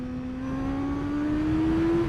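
A motorcycle engine revs in a low gear, its pitch climbing steadily as a smooth, close whine over a rough mechanical rumble, with no one talking.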